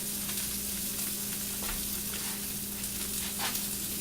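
A burger with bacon laid on top sizzles and crackles in a frying pan, a steady close hiss with occasional pops and a low hum, and no one speaks.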